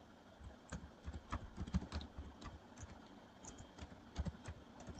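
Keys clatter on a computer keyboard in quiet, close, irregular bursts of clicks with short pauses, while a sentence is entered during DNS server configuration work at a PC, with no voices present.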